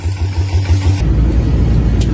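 Souped-up racing farm tractor driving off: a loud, close engine roar with a low, throbbing rumble that shifts into a broader, rougher drone as it pulls away.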